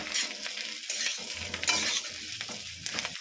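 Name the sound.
katla fish pieces added to sizzling sauce in pan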